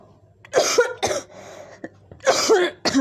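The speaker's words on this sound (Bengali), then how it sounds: "সরি ভাই আমার অনেক কাশি অনেক কাশি" A person coughs several times up close, harsh bursts in two clusters separated by a short pause, with a little throat clearing and no speech.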